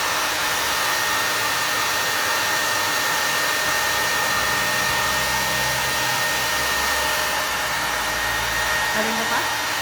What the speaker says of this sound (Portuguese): Desculpa o tempo com o secador.